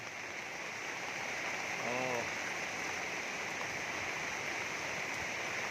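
Steady rain falls outdoors in an even, hissing wash with no letup, and a brief voiced exclamation and a short tonal call rise over it near the start.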